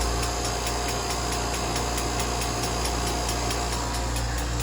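A sap-hauling engine runs wide open at high RPM, a loud, steady drone with strong low hum and regular high-pitched pulsing, close and uninterrupted, with no talking.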